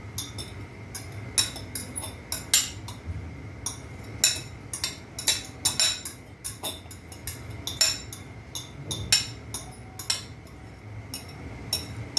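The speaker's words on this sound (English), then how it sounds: "Let me mix together with the onions." Pilau ingredients being stirred together with onions in a pot, producing scattered clinks and light scrapes of a utensil against the pot in an irregular rhythm over a quiet kitchen background.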